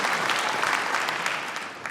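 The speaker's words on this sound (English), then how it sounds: "Once again, a round of applause for our co-chairs." Audience applause for the co-chairs at an AAPI Heritage Month celebration in San Francisco, a steady dense wash of clapping from a sizable crowd that holds constant for the whole stretch.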